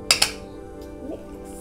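A spoon clinks twice against a glass while stirring a drink, with a faint swirl after, quiet and close.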